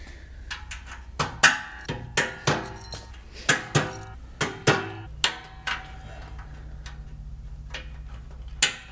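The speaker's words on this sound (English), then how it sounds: "Just tap those right on with the mallet." Mallet striking wire clips onto a tent trailer frame during assembly, a rapid series of about a dozen sharp, fairly loud metallic taps in uneven rhythm, followed by quieter handling noise.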